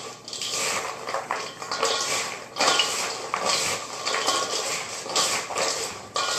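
Pecans being tossed with sugar in a bowl, a steady close scraping and rustling of nuts and granules against the bowl with a few brief clinks, continuous and fairly loud with no talking.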